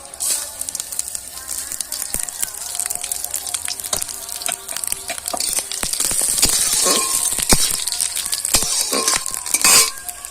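Spices drop into hot oil and sizzle while mung-free masoor dal khichuri is prepared, crackling bursts and sharp pops rising in intensity toward the end, with occasional utensil clinks close by.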